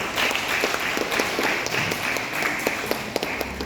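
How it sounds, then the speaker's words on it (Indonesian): An indoor audience claps steadily for a few seconds, a dense, even patter of many hands at moderate volume with no voices standing out. "Tepuk tangan untuk beliau."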